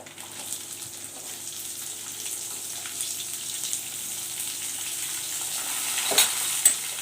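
Chopped onions sautéing in hot oil for a wedding-style chana chhole curry, a steady soft sizzle throughout with a few faint stirring clinks, growing slightly louder near the end, no talking.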